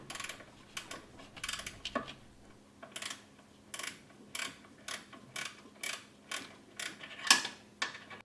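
Wrench turning a threaded nut into a Mazda Miata power steering rack, a regular series of quiet metallic ratcheting clicks and scrapes, close and faint with no talking.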